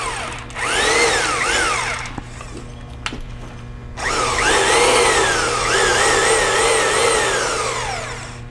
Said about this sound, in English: now we're actually just going to be using the direction of the drill to engage those speeds